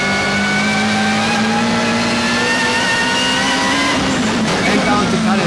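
BMW M3 GTR race car on the Nordschleife accelerating hard in third gear, a loud, steady onboard engine howl rising in pitch, with someone speaking over it.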